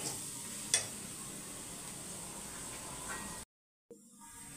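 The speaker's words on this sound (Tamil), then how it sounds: "இப்போ நல்லா ஒரு 5 நிமிஷம் சிம்மில் வச்சு நல்லா மிக்ஸ் பண்ணிக்கோங்க" Chicken masala with chili powder sizzling on a simmering pan, a steady soft frying hiss with a brief clink of stirring early on, cut by a short silence before the sizzle resumes.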